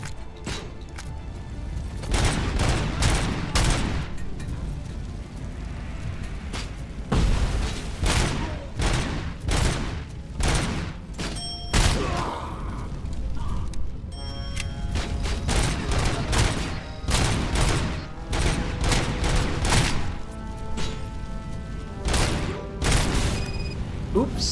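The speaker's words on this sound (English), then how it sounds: "And that's a shotgun, not a rifle." Repeated loud shotgun blasts in the video game RoboCop Rogue City, heavy booming shots fired in quick, irregular succession throughout.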